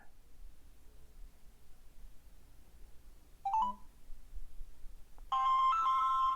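On a Samsung Galaxy phone, a quick burst of keypad dialing tones is followed by a steady electronic ringing tone, faint over a low background hiss with no talking.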